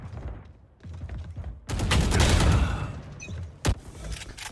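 Gunfire in a Valorant deathmatch: a dense, loud burst of shots in the middle, then one sharp close shot, with quieter clatter before it.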